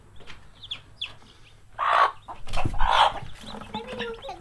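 Young chickens cluck and chirp nearby, with soft scattered calls early and louder, squawky bursts in the second half from birds that do not get along.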